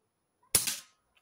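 A single sharp shot from an Air Arms S510 Carbine air rifle, loud and close, with a short decaying report and a faint click after it.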